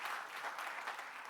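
Audience applause after a presentation at a French agronomy conference session, a brief, faint, even patter of clapping.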